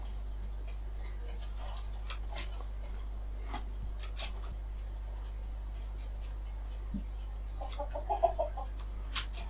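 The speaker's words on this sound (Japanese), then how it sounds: "今、鶏3匹いるから。" Chickens in the survival game Raft, kept in a coop-style chicken farm, give a few short clucks near the end, preceded by scattered faint ticking game noises over a steady low hum.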